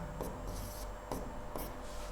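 Calculation being written on a board makes several short, soft scratching strokes in separate bursts over a quiet background hiss, with no voices.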